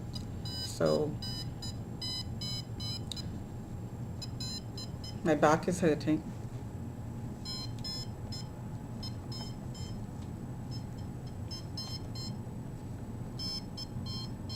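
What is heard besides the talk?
timer beeping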